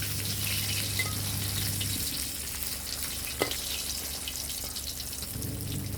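Snakeskin gourami fish frying in hot oil, a steady close sizzle with faint crackles and a soft stir or scrape midway, with no voices.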